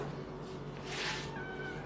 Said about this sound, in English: she will meow during the entire episode